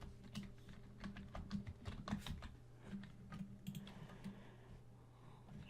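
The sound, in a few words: computer keyboard typing an item name in a game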